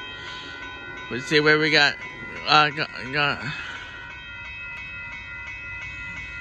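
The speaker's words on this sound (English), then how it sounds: "this is my final train of the night." A Union Pacific mixed freight train approaches Dittmar Road in Austin, Texas, its steady rumble and tonal hum running throughout, with someone speaking briefly in the middle.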